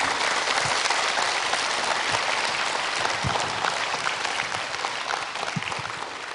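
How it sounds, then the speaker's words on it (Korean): Sustained audience applause greets the lecturer arriving for a talk on character education, a dense, steady wash of clapping at moderate level that tapers slightly toward the end. "큰 박수로 청해 듣도록"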